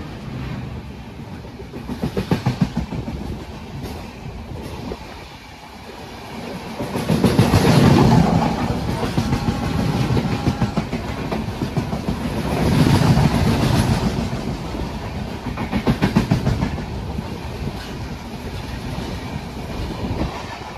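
A Mangalore Express train passes a railway crossing outside Savarda station on the Konkan Railway, producing a loud, close rumble with rhythmic clickety-clack surges of wheels over rail joints that rise and fall as the carriages roll by.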